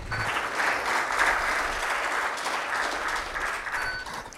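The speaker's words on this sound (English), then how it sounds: "Can we have a big round of applause once again?" Audience applause at an MOU signing ceremony between a Hare Krishna Movement branch in Hyderabad and a university, a continuous, fairly loud round of clapping from a seated crowd lasting several seconds.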